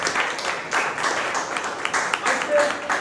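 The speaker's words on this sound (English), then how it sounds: "A big round of applause" Applause at a Toastmasters club meeting during a Tall Tales contest, a room full of members clapping steadily for about three seconds with uneven swells, a few voices murmuring underneath.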